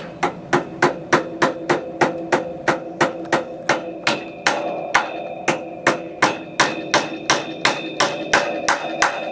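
A hammer nailing clips onto upholstery seat springs, a rapid, even series of sharp metallic strikes, about two to three per second, close and loud with no talking.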